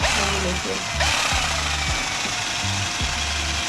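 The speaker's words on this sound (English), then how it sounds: "we're using this combined with a power drill" A loud, steady mechanical whir of a power drill blending pineapple for piña coladas, with rhythmic chunking pulses, as if churning through something, close up.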